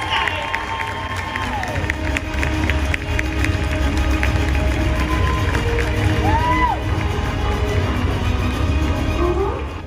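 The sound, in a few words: audience applause and cheering at cosplay contest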